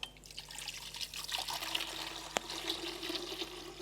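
Water is poured into a bucket in a lecture hall, a soft continuous trickle and splash heard alone at low volume, with one sharp knock partway through.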